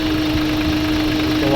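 A 2020 Hyundai H100 van with a hard-starting fault runs with a rough, steady, close engine rumble, and a voice is heard faintly beneath it.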